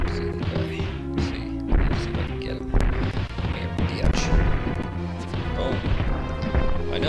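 Enemies getting smashed and beaten in the Batman Returns video game, a busy stream of crashing and thwacking impacts over the game's music, loud and continuous, with a player talking along at times.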